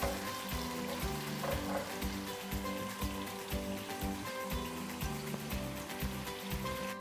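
Garlic fries in a pan for mushroom fried rice, just turning light golden, giving a steady, close, fairly quiet sizzle with gentle stirring scrapes and no talking.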